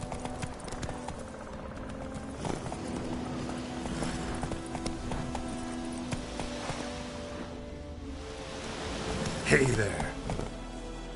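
Roach, Geralt's horse in The Witcher 3, trots along with continuous muffled hoofbeats beneath ambient outdoor sound, while someone speaks briefly over the movement near the end.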